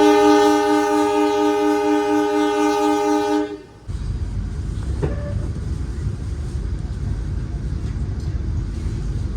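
Ijen Express passenger train near Leces station, Indonesia: a long, loud, steady horn blast gives way to the deep, continuous rumble of the train running at speed, close by.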